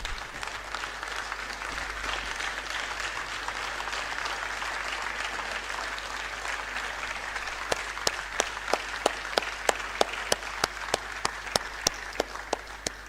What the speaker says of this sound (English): rise once again and give a thunderous applause to our guest speaker